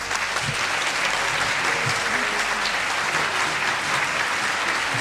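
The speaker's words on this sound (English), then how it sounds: "Another round of applause for this amazing angel, Linda Robinson." Live audience applause at a spiritual talk, dense and sustained clapping from a room full of people, steady and fairly close throughout.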